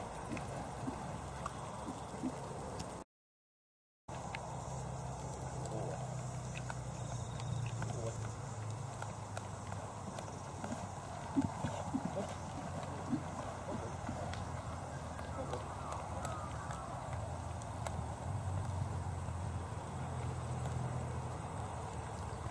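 A horse cantering during a schooling session, with a steady rhythmic clip-clop of hooves that runs throughout under continuous outdoor noise and occasional voices.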